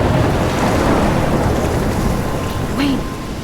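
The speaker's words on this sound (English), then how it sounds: "I'm trapped in a storm?" Stormy weather in the Life is Strange video game, with wind and crashing waves forming a loud, steady roar of broadband noise and a brief whooshing gust near the end, with no talk over it.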